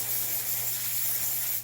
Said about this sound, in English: I'm going to spray back here in the back